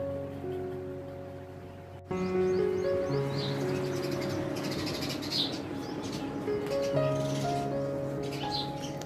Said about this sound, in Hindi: बाहर चिड़ियों की बहुत ज़्यादा आवाज़ आ रही है